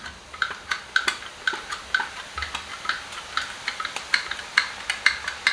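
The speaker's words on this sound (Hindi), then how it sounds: "तेल काफी गर्म हो चुका है और अब हम गोल गोल घुमाते हुए इस तरीके से सेव को डालते हैं" Sev dough made from potato pressed into very hot oil in a kadhai, bubbling and crackling with repeated sharp ticks and pops in a steady, close rhythm, fairly quiet, no voices.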